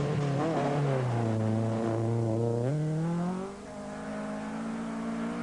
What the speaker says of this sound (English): number 2, Jimmy McRae in the Opel Ascona 400. Ready to go.